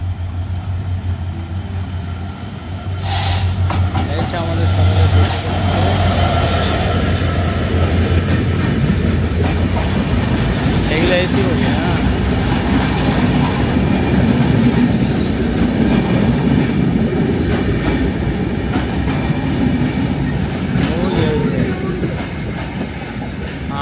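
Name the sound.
train arriving at station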